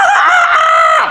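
A voice imitates a rooster crowing, giving one loud, close, sustained cock-a-doodle-doo call that rises and holds before trailing off.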